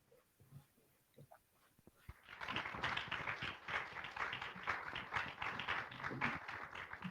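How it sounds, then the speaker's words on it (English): A lecture audience at a talk on island restoration in New Zealand breaks into applause, starting with a few scattered claps and swelling after a couple of seconds into sustained, full clapping from many hands. "we've got a resounding round of applause going on for you"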